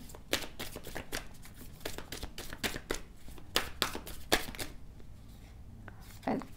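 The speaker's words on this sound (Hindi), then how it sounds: "let me shuffle one more time" Tarot cards being shuffled by hand give a quick run of crisp riffling snaps and soft flicks, close up and fairly quiet, fading toward the end.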